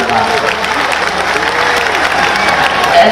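Applause from a crowd gathered at a Hindu unity padyatra in Vrindavan, Mathura, steady dense clapping mixed with some cheering, loud and close, continuing throughout.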